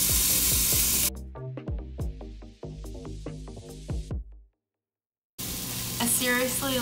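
Onions, garlic, herbs such as sage and rosemary, and nutmeg sizzle in a pan for a vegan pumpkin pasta, a crackling fry with clattering stirring that stops briefly and then resumes.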